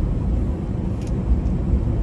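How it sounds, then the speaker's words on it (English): Smooth, steady low engine hum inside a car driving in hot weather, even and moderately loud with no talk over it. "The car running smooth, you feel it?"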